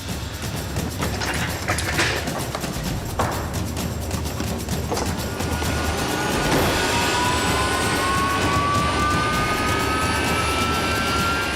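Loud, steady jet engine roar from Harrier fighter jets nearby on an airstrip, with a rising whine building over the second half; no talking.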